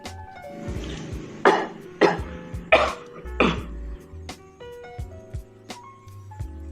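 Four loud, harsh coughs come in quick succession at close range, uncovered, followed by quieter clinks and small knocks.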